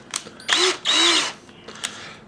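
An electric drill used to straighten misaligned holes on a tricopter frame, whirring in two short loud bursts with brief pauses, bracketed by small clicks and handling noises.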